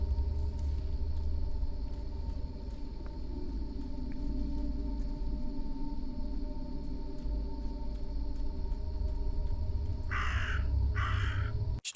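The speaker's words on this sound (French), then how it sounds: "Tu te calmes direct, le corbeau." Two loud, close caws from a crow in the horror game Martha is Dead, arriving near the end over a steady low ambient rumble and hum.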